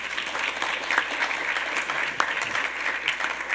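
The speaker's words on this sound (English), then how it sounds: "let's have a bigger applause for all the students" A bigger round of clapping for scholarship students at a community awards ceremony, a full, busy patter of many hands with a few sharper claps standing out, sustained throughout without voices over it.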